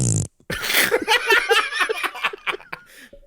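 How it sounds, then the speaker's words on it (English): Wet, sputtering fart sound effects in quick bursts, loud and close, mixed with brief chuckling and snickering between the blasts. "you're honestly gonna blow out with the fart noises there"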